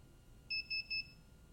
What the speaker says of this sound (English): Every 10 seconds it beeps.